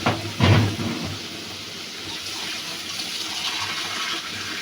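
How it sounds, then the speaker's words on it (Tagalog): Water poured into a hot cooking pan while making a snack, a short splashing gush followed by a steady, even hiss that carries on to the end. "next, lagyan natin siya ng tubig."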